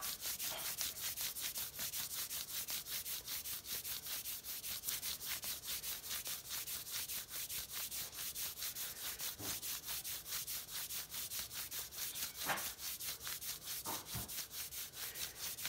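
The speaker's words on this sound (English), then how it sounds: "I take a wax strip, and I rub it for 30 seconds" Hands briskly rub a wax strip back and forth to warm the wax, a steady rapid scratchy friction that continues close to the microphone without pause.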